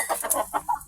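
A hen clucks softly several times in quick succession, close by, in a backyard, with no talking.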